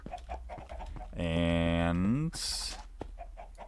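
Minecraft chickens on a chicken farm give a loud, drawn-out clucking squawk lasting about a second, followed by a short bright burst, with a man's speech before and after.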